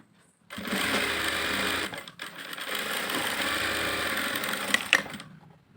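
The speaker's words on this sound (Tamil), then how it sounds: "இப்போ இதில் வந்து தையல் போடணும்" A sewing machine stitches a blouse lining in two steady runs of rapid mechanical whirring, broken by a short pause near the middle, close and clear with no talk.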